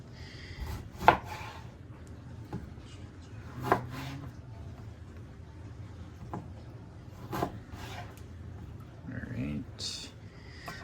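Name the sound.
knife quartering a lime for turkey black bean chili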